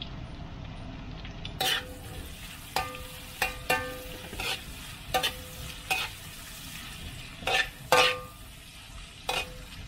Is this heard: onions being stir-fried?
yes